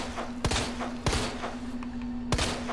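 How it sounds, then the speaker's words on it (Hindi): Three sharp gunshots from a submachine gun in the Resident Evil 2 Remake video game, spaced about a second apart, each a loud close crack over a steady low hum. "मैं गोलियां वेस्ट कर रहा हूँ अपनी"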